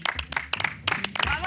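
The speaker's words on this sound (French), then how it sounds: "on fait des applaudissements pour le chef de la semaine" A small group claps in quick, uneven bursts to applaud the chef of the week on a French celebrity jungle reality show, the claps close and sharp with people talking and cheering over them.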